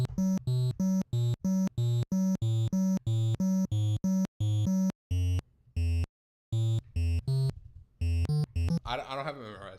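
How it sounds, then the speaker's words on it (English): Super Mario Bros. 2 overworld theme played on NES sound chip square-wave channels: a bright, buzzy chiptune melody of short, evenly stepped notes with brief gaps, ending in a noisy, garbled burst. "the Super Mario Bros. 2 overworld theme sounds like this"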